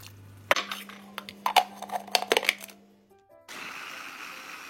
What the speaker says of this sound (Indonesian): akan saya haluskan menggunakan chopper dari Mito Chiba Elektronik yang mampu menghaluskan daging, bumbu-bumbu yang lainnya